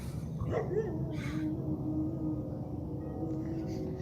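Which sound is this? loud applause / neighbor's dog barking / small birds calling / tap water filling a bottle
neighbor's dog barking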